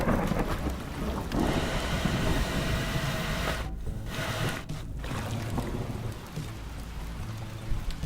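Thunderstorm in the video game Teardown, with a steady roar of heavy rain, low rumbling thunder and a few sharp, brief dropouts in the wash of sound, continuous and fairly loud throughout.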